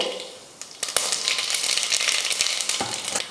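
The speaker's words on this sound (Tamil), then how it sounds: "குக்கர் வச்சு எண்ணெய் ஊற்றிக்கலாம். எண்ணெய் காஞ்சதுமே கடுகு உளுந்து" Mustard seeds and urad dal frying in hot oil in a pressure cooker, giving a loud, close, continuous sizzle broken by scattered sharp pops and crackles.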